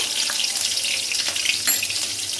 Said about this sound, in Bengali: তেল গরম হয়ে গেছে, চলুন একে একে সবগুলো আমি দেখাতে থাকি কীভাবে করছি। প্রথমে আমি লঙ্কা দিয়ে দিলাম, কুচনো করে লঙ্কা।